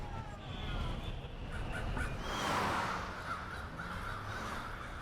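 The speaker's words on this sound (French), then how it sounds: "Les corneilles se rassemblent par centaines pour partager leurs informations sur les sources de nourriture et les potentiels ennemis." Crows in a city give harsh, repeated caws, several birds calling over one another at moderate distance above a steady urban background rumble.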